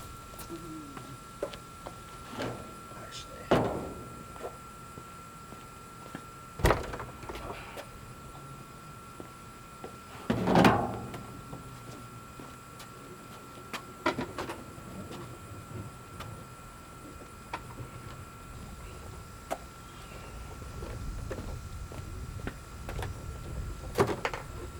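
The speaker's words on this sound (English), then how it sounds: "I got to move some doors real quick." Doors being moved around, giving scattered knocks, clacks and one louder bang over about twenty-five seconds, set against a faint steady hum in the background.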